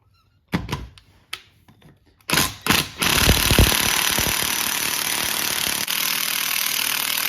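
An impact wrench on a Buick Enclave power steering pump pulley gives a few short clattering bursts, then one sustained loud hammering run with a brief hitch near the end.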